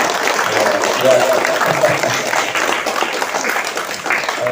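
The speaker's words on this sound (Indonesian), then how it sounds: "Tepuk tangan dong." Audience applause at a fast-breaking and orphan charity gathering, a steady wash of clapping from a crowd that carries on throughout, with a voice briefly heard over it.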